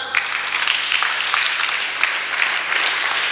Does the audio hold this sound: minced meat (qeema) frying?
no